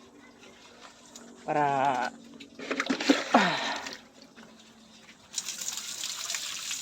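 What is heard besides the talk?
water being poured for pet pigs to drink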